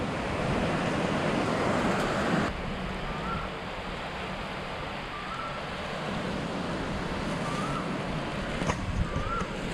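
Surf rolling onto Chaweng Beach on Koh Samui, a steady broadband wash of waves with wind noise on the microphone, fairly close and continuous, with a slightly louder surge in the first couple of seconds.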